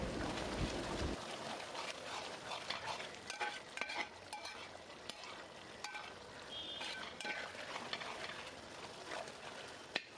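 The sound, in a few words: pork being stirred and mixed with masala in a pan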